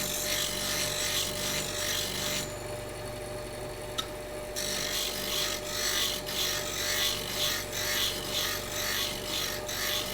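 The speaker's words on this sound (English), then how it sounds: "I got bad enough nicks in this that I have to go right to the grinder." A bench grinder fitted with a CBN wheel grinds a nicked steel plane blade, giving a steady loud rasping whir that pauses briefly partway through before resuming, with no talk.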